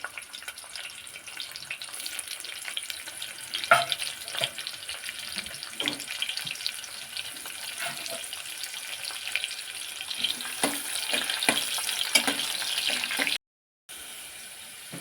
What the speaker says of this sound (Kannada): ನಾನು ಒಗ್ಗರಣೆಗೆ ಅಂತ ಇಟ್ಕೊಂಡ್ರಂತ ಈರುಳ್ಳಿ ಹಾಕ್ತಾ ಇದ್ದೀನಿ